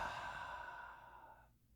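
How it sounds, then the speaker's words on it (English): One slow, deep breath drawn and let out as a soft, close sigh that fades to silence, alone and very quiet. "I Take a deep breath right now."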